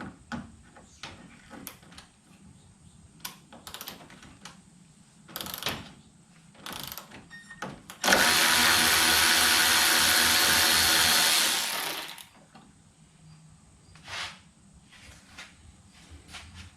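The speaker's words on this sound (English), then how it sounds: "I'm going to go ahead and attempt to remove the radiator brackets." A ratchet works loose the radiator brackets on a Nissan Altima, with close, sharp clicking bursts in short runs and one sustained loud whirring stretch in the middle.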